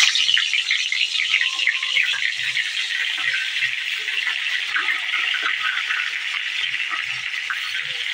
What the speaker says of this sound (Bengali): তেল গরম হয়ে গেছে, এবার বেগুনগুলো দিয়ে দেবো।